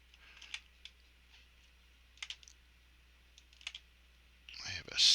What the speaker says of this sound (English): I have a sticky key on my keyboard.